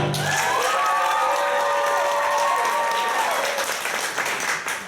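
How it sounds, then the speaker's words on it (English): A large theater audience at a live musical performance claps and cheers loudly, a dense wash of applause with whoops and shouts that slowly fades toward the end. "make thunderous applause now"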